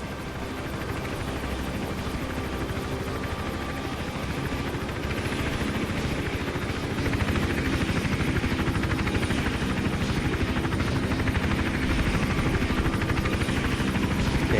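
Continuous rapid thudding of helicopter rotor blades in the video game Hitman: Absolution, steady and fairly loud, growing slightly stronger over time with no voices.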